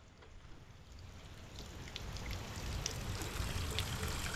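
Water pours steadily from a spout in an outdoor rice-field setting, a continuous close splashing stream that grows slightly louder as it goes, with no talk over it.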